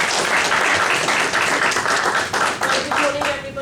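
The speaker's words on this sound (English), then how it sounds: "Let's give a round of applause." Audience applause at a student entrepreneur society and job-shop launch on a London campus, dense steady clapping from a crowd that carries on for several seconds and begins to thin out near the end.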